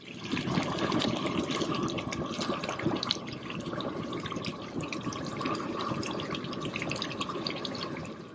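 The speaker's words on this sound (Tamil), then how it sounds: "அருமையா கொதிச்சுட்டு இருக்கு." Quail gravy boiling in a pot in a village kitchen, a steady, close bubbling and burbling that stays even and unbroken throughout.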